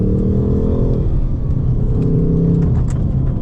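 A 2025 Ford Mustang Dark Horse with a manual V8 and rear-wheel drive pulls hard, its engine note rising steadily, dipping briefly at a gear change, then climbing again as a loud continuous rumble heard from inside the cabin.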